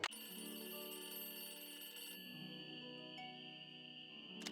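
A telephone rings steadily in the Nancy Drew video game Ghost Dogs of Moon Lake, with a sustained electronic ring tone and quiet game ambience and no speech.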